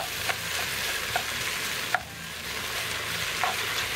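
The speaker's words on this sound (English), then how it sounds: "Get that pork sausage in there. That Italian pork sausage, hot sausage. Get that cooked up, rendered down a bit." Hot Italian pork sausage sizzles steadily in a pan while cooking for chili, a close, constant frying hiss with occasional soft scrapes and taps of a utensil stirring.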